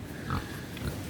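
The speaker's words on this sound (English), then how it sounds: "now we've come across this little house with pigs" Pigs kept in a small shed along a countryside hiking trail give a couple of low, short grunts close by, over breezy outdoor noise.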